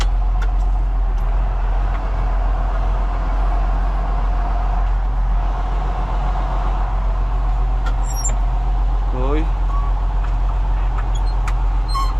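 A revived old car engine idles steadily and loudly close by, a constant low rumble with no talk over it.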